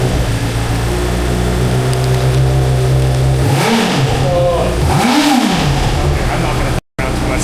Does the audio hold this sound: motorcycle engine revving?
yes